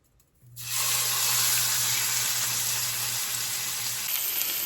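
Flank steak hits a hot pan slicked with avocado oil and bursts into a steady, loud sizzle that holds evenly from start to finish, with no talking over it.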